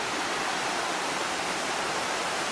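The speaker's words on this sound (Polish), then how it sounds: "nad wodospad, który znajduje się na potoku Łomiczanka." A waterfall on the Łomniczanka stream in Łomnica Zdrój roars as a constant, dense rush of falling water, loud and unbroken from start to finish with no voices.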